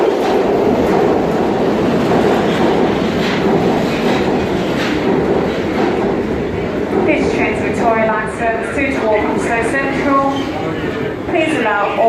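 A London Underground Victoria Line train running between stations: loud, steady rumbling roar of wheels and motors filling the carriage, with a voice talking over the din in the later part.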